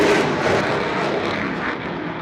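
A close, loud RAF Eurofighter Typhoon roars steadily through a slow, high alpha approach at an airshow in Eastbourne. The broad engine noise sweeps past with no talk.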